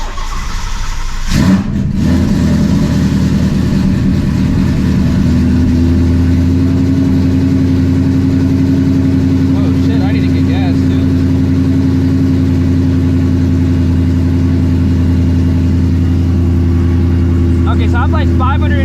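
A car engine cold-starts with a sharp burst, then settles into a loud, steady high idle with some revving, running alone close by for the rest of the stretch.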